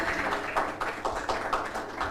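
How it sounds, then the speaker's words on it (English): A design talk audience applauds the speaker, Marta, with a short burst of moderate, fairly close clapping that pulses unevenly and stays fairly light throughout. "Let's give applause to Marta"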